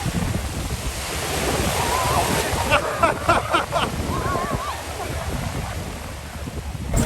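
Atlantic Ocean surf breaking off Goree Island near Dakar, Senegal, a continuous loud wash of waves mixed with wind buffeting the microphone, with a voice speaking briefly over it.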